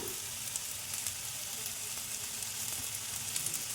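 Potatoes with chopped green chili, salt and turmeric frying in a pan, giving a continuous close sizzle with faint stirring scrapes throughout and no voices.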